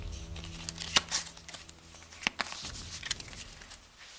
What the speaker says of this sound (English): we put them back into the deck and give them a little shuffle